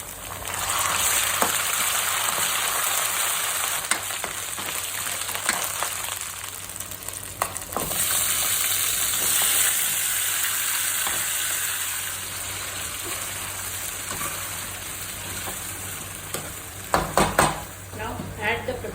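Ginger garlic paste fries in a pan for chicken curry, a steady broadband sizzle running throughout with occasional stirring clinks of utensils near the end.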